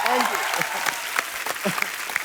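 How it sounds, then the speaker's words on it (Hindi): A TV comedy show's studio audience claps loudly and continuously, a dense burst of applause close and full, with voices and cheering mixed into the clapping. "जोरदार तालियां सिद्धू साहब के लिए"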